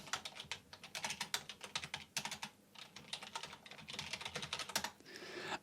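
Fingers type a short name on a computer keyboard, giving a quick, irregular run of close, crisp key clicks that continues for several seconds with brief pauses between them.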